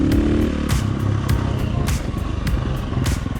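Motorcycle engine on a Tokyo Mods Vortex ECU test ride, running steadily close up with a dense, rumbling drone, broken by several short popping bursts on the overrun after the throttle is closed.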